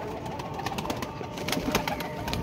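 A flock of flying pigeons fills the air with close, continuous cooing and fluttering, with scattered sharp wing beats throughout and no voices.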